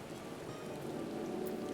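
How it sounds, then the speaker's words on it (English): Steady, soft rain falls continuously on surfaces in Final Fantasy XIV, forming a dense, even patter with no voices. "It's raining again."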